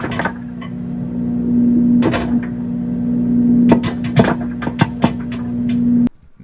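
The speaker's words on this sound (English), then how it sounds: "I put one into the microwave, and after a while, sure enough, they started to pop up a storm" Scattered sharp pops of corn kernels on the cob burst irregularly over a microwave's steady humming drone, quickening then stopping as the hum cuts off abruptly.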